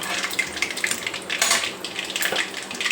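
Cumin and mustard seeds crackling and popping in hot oil, a busy spattering hiss with scattered sharp pops and faint utensil clinks.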